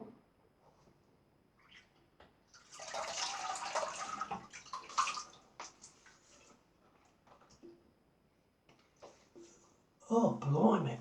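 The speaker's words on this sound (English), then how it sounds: "let's have a little rinse and see how we're going" A razor is rinsed under running water during a wet shave, with short splashing bursts and taps against the sink in between. Someone talks quietly in the pauses.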